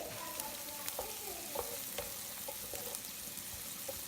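Onions and turmeric sizzle steadily in a pan for a coconut egg curry, with soft scraping and occasional light clinks from stirring throughout.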